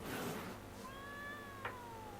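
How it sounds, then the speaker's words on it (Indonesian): A cat meows once in a long, rising then falling drawn-out cry in The Witcher 3: Wild Hunt, heard clearly and fairly close over faint background ambience. "Oh kucing."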